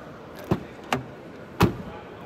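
Rear door of a 2023 Renault Austral opened and shut, giving three sharp thuds and latch clicks spaced about half a second apart, fairly close and alone with no talk.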